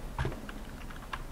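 Rapid, messy typing on a computer keyboard while playing World of Warcraft as a fire mage in PvP, a quick cluster of close key clacks with a louder burst near the start and another near the end.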